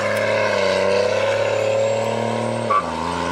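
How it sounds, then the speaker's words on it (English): A Cummins diesel truck drives past with a steady engine drone, and a brief tire chirp sounds near the end as the engine note drops. "He just chirped tires."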